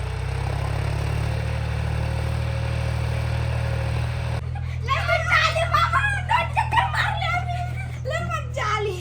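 A John Deere tractor engine idles with a steady low drone throughout while a child drives it; after a few seconds children's voices and giggles chatter over the running engine.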